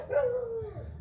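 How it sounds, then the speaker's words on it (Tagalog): A large dog gives a single drawn-out whining howl that slides downward and trails off. It sounds close and moderately loud over low background rumble. "Itatali pa niya yung aso mga bay kasi ang laki ng aso"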